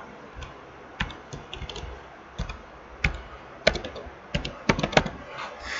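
Irregular keystrokes on a computer keyboard, typing Java servlet code, tap and click at close range over a faint steady background hiss, with no talking.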